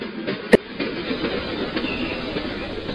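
A train running on rails, a steady rumbling wash of wheels and carriage noise with one sharp clank near the start, heard from on board over three seconds.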